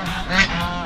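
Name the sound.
geese honking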